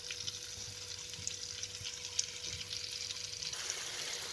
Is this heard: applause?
no